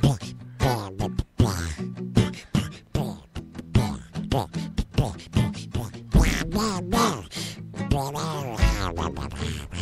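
A person imitates a duck with repeated voiced quacks in an uneven rhythm, loud and close, mixed in with lively conversational speech from several people.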